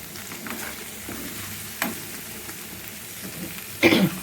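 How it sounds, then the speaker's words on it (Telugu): Rasam tempering sizzles in a hot pan for a lunch of cauliflower and peas fry, a low steady frying hiss with a sharp loud burst of spitting near the end. "అయ్యేలోపు రసం తాలింపు పెట్టేసుకుందాం."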